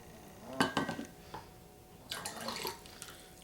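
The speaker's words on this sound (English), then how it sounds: "I'm going to get my other pot." Metal stock pot handled during bone broth canning: a few clanking knocks and scrapes against other cookware, fairly close and moderately loud, with brief pauses between bursts and no talking.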